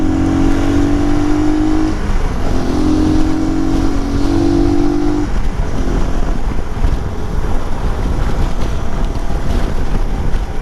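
A Voge RX3 i Evo motorcycle rides through evening traffic, its engine note rising and holding in steady pulls under constant, heavy wind buffeting on the microphone, with traffic noise around.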